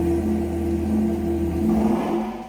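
A Yamaha MT-10 naked motorcycle with its R1-derived crossplane engine revs steadily and loud, a droning engine note that swells slightly near the end before easing off.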